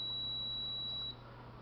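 A single steady high-pitched electronic beep from a hidden wiring detector finding electrical wiring in a wall, lasting about a second, then cutting off, faint over low background hum.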